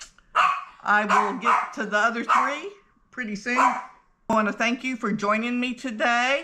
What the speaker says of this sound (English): He's a barker